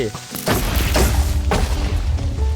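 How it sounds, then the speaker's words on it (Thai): Explosions in the Minecraft survival video game sound as a few close, heavy booms about half a second apart, with a voice talking over them. "มาระเบิดดิ มาระเบิด มาระเบิดหน่อย"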